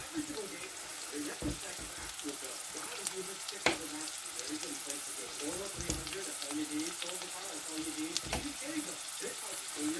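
Cowpeas and eggplant temper in a hot pan, giving a soft, continuous sizzle and crackle with occasional stirring clicks.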